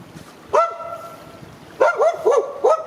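A dog barks once, pauses, then lets out a quick run of three or four sharp barks, fairly close against quiet outdoor background.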